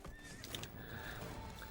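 Horse in the Witcher 3 video game whinnying clearly, a single drawn-out neigh with hoof clip-clop mixed in, fairly quiet and heard alone without talk.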